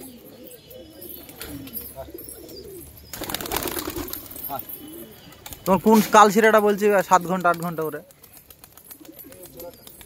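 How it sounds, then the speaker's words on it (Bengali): Pigeons coo close by, low throaty calls mixed with a brief flutter of wings, while someone talks over them. "হেভি বাজি সব পায়রাগুলো"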